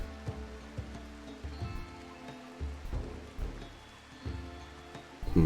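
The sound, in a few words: rain falling in the video game RimWorld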